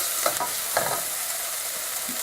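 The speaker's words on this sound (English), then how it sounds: "So I am adding the potatoes, chunky, and then mix it around." Chunky potatoes sizzling and being stirred in a pan over medium heat while cooking chana masala, with a few scraping stir sounds early on over a steady frying hiss.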